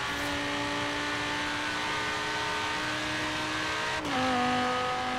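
A car in the Forza Horizon 3 racing game drives at a steady engine drone, then shifts gear with a sudden drop in pitch followed by a slightly louder, lower hum.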